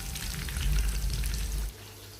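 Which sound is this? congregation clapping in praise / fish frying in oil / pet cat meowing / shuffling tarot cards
fish frying in oil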